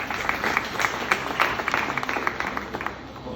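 Audience at a graduation ceremony at a technical training centre applauding, a dense, fairly loud wash of clapping with individual claps popping out, steady for a few seconds.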